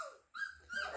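Newfoundland puppies whimper and yip in short, high, close bursts around a brief pause, as if looking for their mother.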